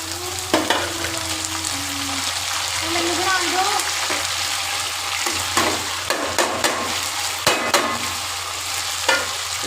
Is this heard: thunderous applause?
no